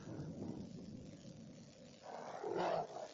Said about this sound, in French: Des chiens, des chiens, des chiens.